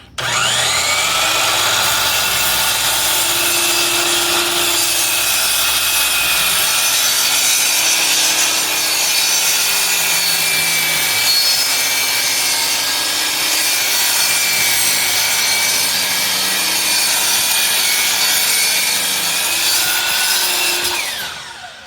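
An edge of a black walnut offcut is power sanded to clean off epoxy, a loud continuous abrasive whirring and rubbing close by with no talking.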